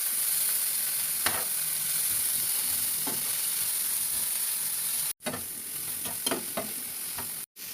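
Egg curry with capsicum and added ginger fries in a pan, a steady sizzling hiss broken by occasional scraping stirs of a utensil, close and fairly loud with no talking.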